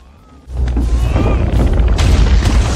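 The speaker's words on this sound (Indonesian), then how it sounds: "sebelum menara itu runtuh" A huge collapsing tower in an action film erupts into a sustained deep boom and roaring crash that swells suddenly after a quiet start and keeps rumbling loud and dense with debris-like crackle.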